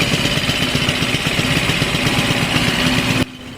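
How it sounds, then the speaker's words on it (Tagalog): A motorcycle engine just back together after a carburetor cleaning idles steadily and loudly up close, with an even pulsing throb that cuts off abruptly near the end. "ipaparinig ko na sa inyo ang kanyang makina"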